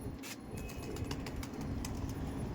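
Giribaz pigeons stir and shuffle nearby in a quiet, low-level bustle, with soft fluttering and faint scattered calls under a steady background hiss.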